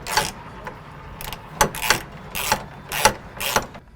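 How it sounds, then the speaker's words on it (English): A 14 mm socket on a ratchet tightens the rear strap of a replacement fuel tank on a Mercedes, giving a series of quick ratcheting clicks in short bursts, close and fairly loud, with no talking. "Now with the 14 millimeter socket and the shortest strap, we're going to install the rear strap first."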